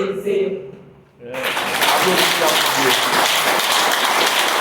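A church congregation at a Haitian Creole worship service bursts into sustained applause after a brief quieter moment, a loud dense wash of many hands clapping that continues steadily to the end.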